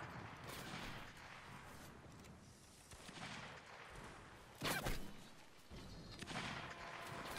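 Musket volleys in a Napoleonic Wars trench battle game, heard as a busy, fairly distant crackle of shots with one louder near report about midway through.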